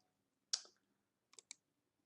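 Three sharp clicks on a computer keyboard, one crisp keystroke followed after a pause by two quick taps close together, near and isolated in a quiet room.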